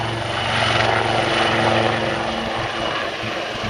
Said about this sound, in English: Pitching down, holding the formation around the aircraft to settle forward and out in the air.